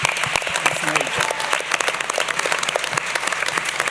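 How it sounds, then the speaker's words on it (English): Sustained applause from an audience at a school board of education meeting, dense clapping rolling steadily throughout with a few brighter individual claps standing out. "that's a hand clap."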